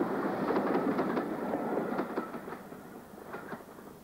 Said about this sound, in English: A standard class 5 heads north to Birkenhead